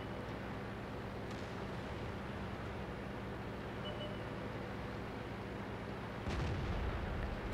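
Heavy M44 artillery fire in World of Tanks booms out once near the end, a loud low blast rising over a dense, continuous rumble of battle and engine noise, with an earlier fainter thud.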